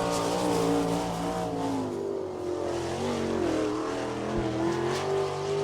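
A sprint car, number 13 on a Gambler chassis, runs a qualifying lap at Attica, Ohio, during All Star Circuit of Champions Speedweek. Its engine howls continuously with rising and falling revs, near and loud, without talk.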